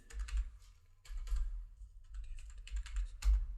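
Computer keyboard typing a vehicle number into accounting software, several quick soft bursts of key clicks with short pauses between them, close and fairly quiet.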